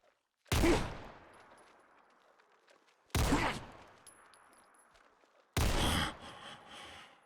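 Three loud, sharp gunshots from a weapon in Fallout 4, spaced a few seconds apart, each with a sudden crack followed by a decaying echo and tail.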